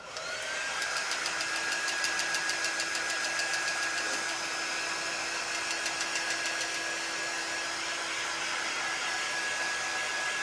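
A hair dryer blows steadily and loudly on a handmade greeting card for about ten seconds, giving a constant whooshing roar with a faint high whine above it.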